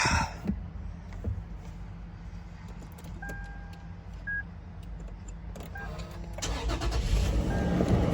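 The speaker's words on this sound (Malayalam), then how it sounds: "രാവിലെ തന്നെ ഒന്ന് വണ്ടി സ്റ്റാർട്ടാക്കിടാ" A used car bought at a ministry auction in Qatar is started after keys jingle and a few clicks, the engine catching and building into a rising rumble at the end of the stretch, with no voices.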